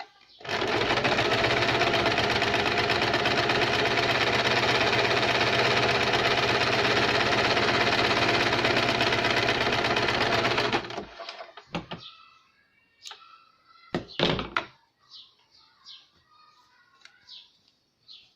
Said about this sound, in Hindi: अब हम डबल सिलाई लगाएंगे